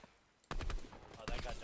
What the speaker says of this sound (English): They're shooting at the bots.